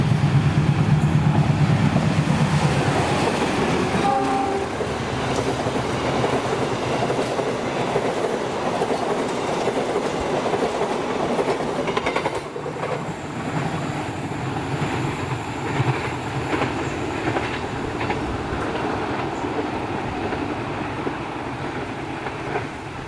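The Cikuray passenger train in Indonesia rolls past, its hauled cars rumbling and clattering on the rails, loud at first and then easing to a steadier, softer run that continues throughout.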